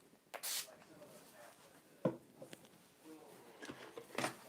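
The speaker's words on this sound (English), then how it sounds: "I'm going to grab my Urban Decay All-Nighter and spray the brush" Urban Decay All Nighter setting spray is spritzed onto a makeup brush in short, soft hissing bursts, one early and another near the end, amid faint handling noises in a quiet room.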